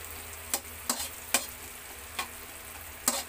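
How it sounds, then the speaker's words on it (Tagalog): Ginger and onion sautéing in a pan for spicy tomato chicken soup, a faint low sizzle broken by a handful of sharp spatula scrapes and clicks at irregular intervals. "Igisa ang luya at saka sibuyas!"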